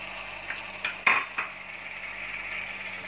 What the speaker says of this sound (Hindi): अब हम इसमें टोमेटो डाइस किया हुआ डालेंगे